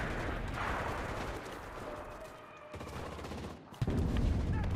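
Gunfire in the World War II shooter Enlisted, where shotguns are in play, rolls steadily as a loud, dense battle din, dips briefly, then returns with heavier blasts near the end.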